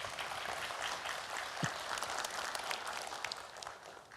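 A steady round of applause from an audience at a public debate between regency election candidates in Bulungan, continuous clapping at a moderate level that holds for several seconds.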